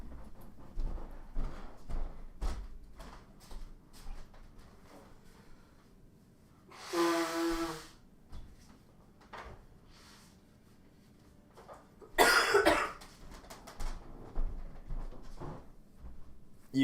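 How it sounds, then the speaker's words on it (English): A person blows their nose in two loud, close bursts, one short and one longer and harsher, between quieter scattered handling noises in a room with no talking. "I gotta blow my nose."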